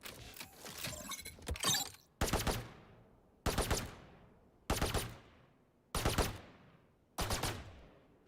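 Gunshots in a tactical shooter game, a dense burst of rapid fire followed by five evenly spaced loud single shots with sharp attacks and short decaying tails, no talking.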